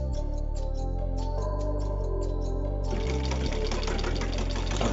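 Sewing machines run steadily at a village sewing school in Cambodia where girls train for garment-industry jobs, giving a dense, continuous mechanical whir with rhythmic stitching pulses that grows busier partway through.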